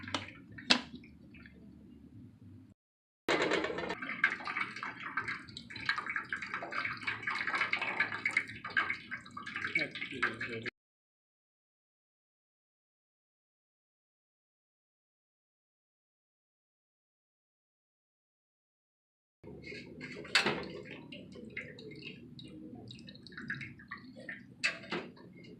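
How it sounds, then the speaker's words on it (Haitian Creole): Boiled tomatoes poured into a strainer to drain off their water while making homemade tomato paste, giving soft trickling and dripping in two separate stretches with a silent pause between them. "Nous allons couler les tomates là. Pour nous retirer toute l'eau là-dedans."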